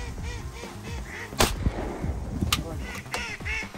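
Ducks honk and quack overhead during a duck hunt, several calls overlapping outdoors, with a few sharp bangs and rustling mixed in.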